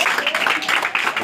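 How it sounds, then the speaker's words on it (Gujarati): Applause from a classroom of students for a classmate, a short burst of dense, steady hand clapping at close range lasting about a second. "બતાવો ભાઈ, તાળીઓથી બતાવો"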